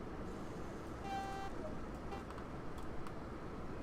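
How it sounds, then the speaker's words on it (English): In Train Sim World on the West Somerset Railway, a train horn gives one short tonal blast of about half a second, standing out over a constant low engine rumble. "Set the brakes to release and the throttle and sound the horn."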